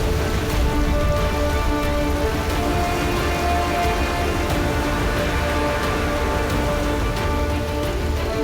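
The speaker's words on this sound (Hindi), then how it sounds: "ये भारी बारिश अब अगले 6 महीने तक आती जाती रहेगी।" Heavy monsoon rain pours steadily in Indonesia, a dense, constant roar of drops hammering surfaces, loud and close throughout with no voices.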